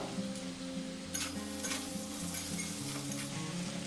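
Cumin, coriander and turmeric fry with salt over a very low gas flame for a fish curry, giving a soft, continuous close sizzle under a steady low hum, with occasional light stirring touches.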